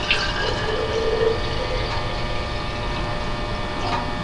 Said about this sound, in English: now I am going to pour some juice inside that container